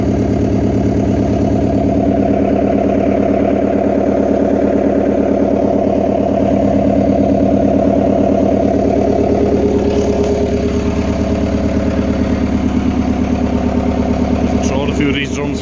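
A heavy excavator engine runs at a steady, loud idle throughout, a continuous low chugging drone close by.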